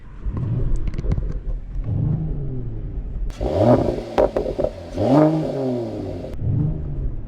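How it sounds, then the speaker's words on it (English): A Mercedes-AMG GT 43 is being driven, its engine revving up and down with a few sharp, brief exhaust pops and crackles standing out from the rumble. "I hear a little bit of popping, so I'll just say there's a lot that can be done to the exhaust for sure"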